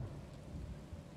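Steady rain with a low rumble of thunder in the video game The Sinking City, a faint, even wash of noise heard briefly with no speech over it.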